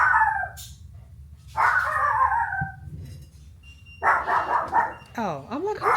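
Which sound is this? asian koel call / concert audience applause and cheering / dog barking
dog barking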